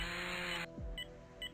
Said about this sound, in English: as you can see, the chainsaw really hurts them a lot